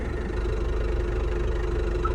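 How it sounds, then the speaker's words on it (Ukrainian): An MTZ tractor engine runs at a steady throttle while the tractor drives across a field, a loud, even diesel drone with a low knocking pulse, close and continuous with no talk. "Я йду, трактор їде, робота робиться."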